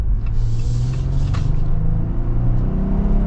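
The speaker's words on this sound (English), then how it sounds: "Okay, we'll get our acceleration" A 2023 Jeep Wrangler High Altitude accelerating, its engine rumble steady and loud from inside the cabin, a low droning tone rising slightly throughout with no talking.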